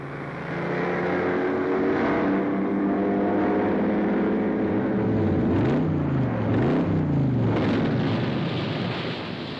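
Sports cars at a racing event roar steadily with wind buffeting, then engine notes swoop up and down in quick shifts as cars pass close by, loud and without talk.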